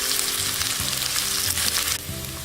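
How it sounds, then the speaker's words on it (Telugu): Chicken pieces coated in masala powder fry steadily in a hot pan, a dense continuous sizzle with occasional stirring scrapes and a slight drop in intensity near the end. "2 నిమిషాలు ఈ మసాలాతో చికెన్ని వేగనివ్వండి."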